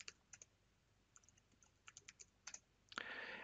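Quiet, scattered keystrokes on a computer keyboard as a password is entered while installing Arch Linux, a few isolated taps spaced out over a few seconds, then one louder, broader burst at the end.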